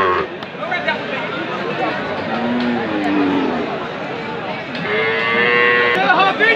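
Sahiwal cow and her heifer calf low repeatedly at a busy cattle market, several drawn-out moos rising clearly above a crowded background of voices and bustle.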